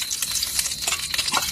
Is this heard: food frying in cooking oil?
yes